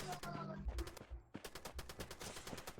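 In a multiplayer shooter video game, a brief stretch of talk gives way to rapid bursts of gunfire, sharp repeated cracks in quick succession.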